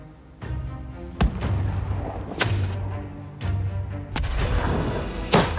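A reproduction Tudor-era hand gun from the Mary Rose warship is test-fired outdoors, giving several sharp, loud bangs spaced a second or so apart over a rumbling background.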